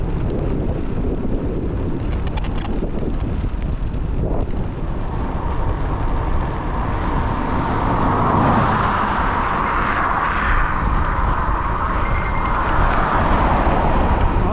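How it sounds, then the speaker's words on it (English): Highway traffic rushing past a cyclist on a rural road in Western Australia, a continuous roar of passing vehicles swelling and fading with heavy wind buffeting on the microphone, no talking. "Less cars than yesterday, but quite a few more than I thought"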